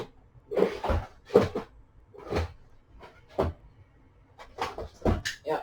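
Someone rummages through a drawer in a home crafting space, making a run of knocks, bumps and rustling shuffles at close range with short pauses between them, and no talking.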